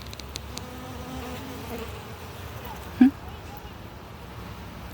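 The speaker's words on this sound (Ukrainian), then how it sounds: "Аромату ніякого немає, але бджоли до неї завітали." Bees hum softly around flowers, a low buzzing drone that wavers in and out, broken once by a brief sharp knock.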